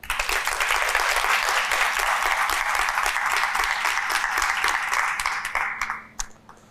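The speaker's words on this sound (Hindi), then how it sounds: "तालियां बजा दें।" Studio audience on a Pakistani television game show applauds loudly and steadily for about five seconds, the dense clapping then thinning out and fading into a few scattered claps.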